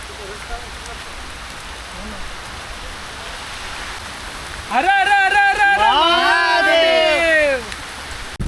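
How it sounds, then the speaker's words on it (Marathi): Steady rain patters throughout, with a voice speaking over it partway through. "पाऊस आलेला आहे हा थोडा थोडा जोरात आहे"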